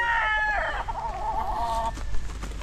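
Chickens and roosters at a breeding farm, a loud rooster crow rising near the start with clucking hens around it, close and clear over a low background hum.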